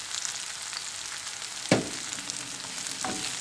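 Zucchini sautés in a pan with a soft, even sizzle, interrupted by one clear utensil knock and a fainter scrape later on, and no talking.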